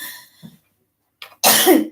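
A sudden loud sneeze bursts out after a couple of soft breathy sounds, sharp and close, with a noisy explosive release.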